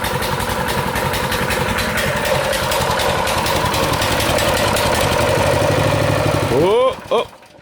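An engine runs on choke with a rough, steady, knocking idle, then sputters and dies abruptly near the end, leaving silence.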